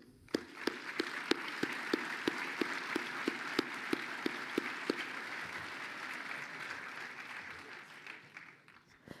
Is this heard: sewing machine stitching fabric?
no